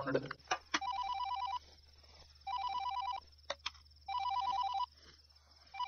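An electronic telephone ringtone sounds in three repeated bursts with pauses between, alongside a few sharp knocks and faint background voices in an indoor home setting.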